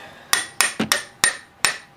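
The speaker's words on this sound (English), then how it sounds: "Adam's got the chisel all the way on the coolant flange, and he's going to try to split it with the hammer" A hammer strikes a chisel set against a coolant flange on a B7 Audi A4, six sharp metallic whacks in an uneven rhythm, close and loud with no voices.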